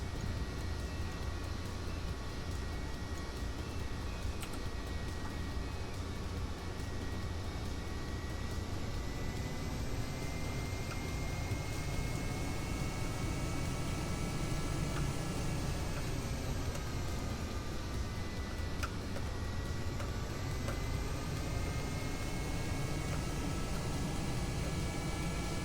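Rocket engine in Kerbal Space Program roaring steadily as it throttles up, a broad continuous rushing noise with a faint high whine on top, holding at an even level throughout with no voices.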